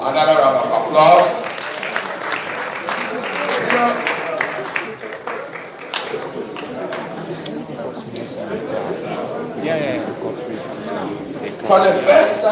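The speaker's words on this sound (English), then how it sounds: "Another round of applause." An audience at a climate forum claps and chatters, the applause swelling loud at the start, easing into a murmur of voices and scattered claps, then rising again near the end.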